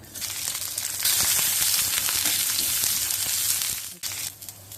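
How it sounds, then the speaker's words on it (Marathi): Steady, dense sizzling and crackling of onion dry-roasting on a hot, dry griddle, continuous and fairly loud with a brief dip near the end. "तर तव्यावर भाजण्यापहिली प्रथम कांदा घालू"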